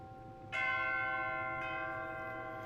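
A church bell of Notre-Dame de Paris strikes, its ringing tone swelling and sustaining, with a second strike layered in about a second later.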